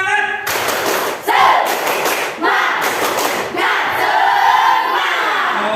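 A classroom group claps rhythmically and shouts together during a lesson, loud and close, with bursts of thumping claps and voices rising in unison, and a leader speaking between rounds.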